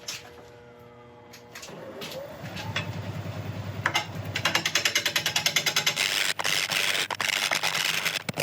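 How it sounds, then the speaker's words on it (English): Bowl gouge cutting a Mallee burl on a wood lathe, starting with quiet taps and scrapes, then building into loud, rhythmic chattering cuts as the tool bites the spiky, uneven burl. "But we'll carry on going for the moment with a bowl gouge and see how things progress."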